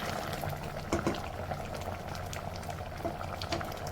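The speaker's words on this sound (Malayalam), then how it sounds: "പൊടിച്ചെടുത്ത സാമ്പാർ പൗഡറും കൂടെ 1 ടീസ്പൂൺ ചേർത്തതിന് ശേഷം തിളപ്പിച്ച് സാമ്പാർ ഇവിടെ റെഡിയായി." Sambar seasoned with home-ground sambar powder boils in a pot, giving a soft, continuous bubbling with scattered small pops, faint and close, with no voices.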